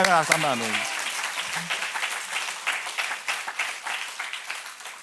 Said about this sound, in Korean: 진실하게 받아들이기로 결심하면 박수 한번 아멘